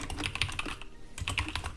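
Rapid typing on a computer keyboard, a steady run of close, crisp key clicks with a brief lull midway before the tapping resumes.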